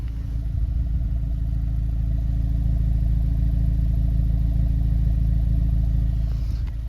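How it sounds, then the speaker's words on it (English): 2025 Honda Civic Si with the stock exhaust and a resonator delete idling, a steady low rumbling drone held evenly throughout at close range with no revving. "this is the stock exhaust. The only thing I've done is a resonator delete, and this is how she sounds at idle"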